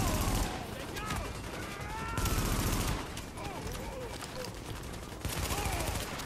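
Gunfire in the video game Tom Clancy's The Division, with bursts of automatic rifle fire and heavy volleys that repeat and overlap over several seconds, loud and dense, layered over game sound effects.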